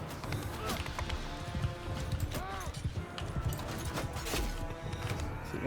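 Horse hooves gallop in the video game Mount & Blade II: Bannerlord, a quick, busy clip-clop rhythm with clashes and battle noise, someone talking over it.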